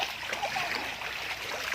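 Clear water flows in a stream near the Valmiki ashram, a soft continuous rushing and trickling heard close by with no talk.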